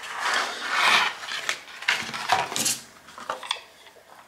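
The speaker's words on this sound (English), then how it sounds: "This is plastic, so it makes hard noises." A plastic LED light packaging box being opened: close, irregular scraping, rubbing and clicking of hard plastic, with bursts of rustle and small knocks, no talking.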